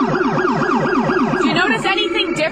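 A low, deep Rumbler police siren rapidly wails up and down in a repeating pattern, loud and close, with a slight change in tone near the end.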